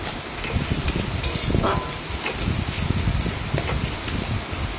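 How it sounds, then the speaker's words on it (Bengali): Fish fat frying with vegetables in an oiled pan: a dense, even sizzle with scattered pops and crackles, steady and close throughout. "এই দেখো এখন ভালো করে ভেজে নিচ্ছি"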